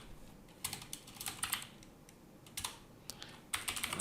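Computer keyboard typed at a Windows 10 command prompt: quiet, close clusters of key clicks in short bursts with gaps between them.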